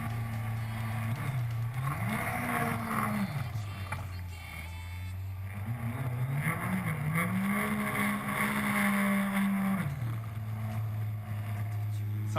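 A jet boat engine runs continuously nearby, its pitch rising and falling as the throttle changes, with water noise and some talk underneath.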